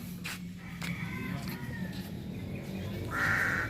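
A crow caws in a rural provincial yard, several harsh calls spread over a few seconds at moderate distance, with a louder call near the end, over faint background noise and murmuring.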